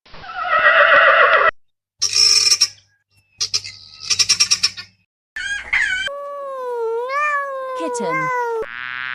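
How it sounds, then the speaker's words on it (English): A horse lets out a loud whinny among a string of varied animal calls, including bursts of clucking-like sounds and a long wavering neigh near the end, each heard on its own without talk. "Horse."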